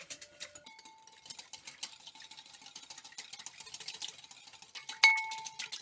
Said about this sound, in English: I'm just going to whisk it until it gets thick